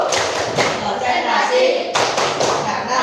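Children performing a rhythmic clapping routine in a classroom, with repeated claps, taps and thumps falling in quick patterned bursts while young voices chant along.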